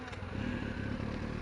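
Yamaha YZF R6 motorcycle with an RPM stuttering fault, its engine idling nearby in a steady, slightly uneven low rumble with faint mechanical clatter.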